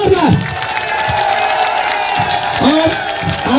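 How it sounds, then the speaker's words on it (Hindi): A large crowd at a Sanatan Dharma Mahasabha rally in Sanganer, Jaipur, bursts into loud, sustained clapping and cheering for Kirodi Lal Meena, with scattered shouts and whistles mixed in. "ताली हो जाए जोरदार"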